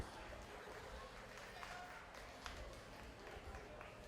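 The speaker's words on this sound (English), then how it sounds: "Let's give them a big round of applause." Applause at a 4-H and FFA market lamb show at the Lawrence County Fair: a crowd claps steadily and fairly faintly for several seconds, a diffuse patter from across the arena.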